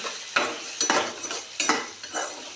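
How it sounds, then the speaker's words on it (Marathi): Cashews, tomato, onion and spices for cashew curry sizzle in a pan as a spoon stirs them, giving a close, even frying hiss broken by about four sharp scraping strokes. "हे बघा छान असं परतून घेत आहे हे बघा ह्याच्यामध्येच मी काजू परतून घेतलेले आहे आणि ह्याच्यामध्ये टोमॅटो कांदा आणि ते मसाले"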